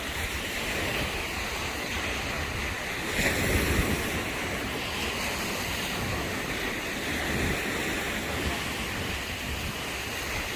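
Waves roll and wash onto a rough-sea beach at a Lara, Antalya resort hotel in a constant roar, with surges swelling now and then and wind buffeting the microphone.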